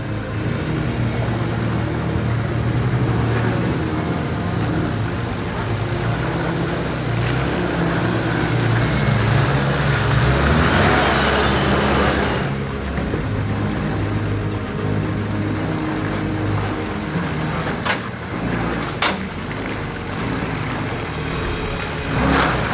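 A Nissan Patrol 4x4 grinds steadily up a rutted, wet jeep track after a storm, its engine a continuous low drone with slosh and rumble from the tyres, loud and close throughout without speech.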